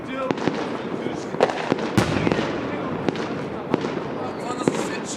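New Year's Eve fireworks in Plovdiv, repeated sharp bangs and crackling bursts over a dense roaring background, with people talking and shouting nearby.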